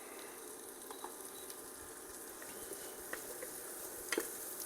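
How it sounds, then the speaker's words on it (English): Broccoli stems sauté in a pot as a soup base, giving a faint, steady sizzle with scattered soft clicks and a few small taps from stirring near the end. "So give that a quick saute."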